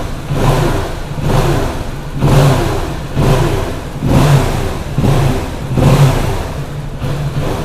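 A 2017 Kawasaki Ninja 650 KRT ABS motorcycle is revved repeatedly with the throttle, giving about six evenly spaced, loud surges of engine roar over a steady idle.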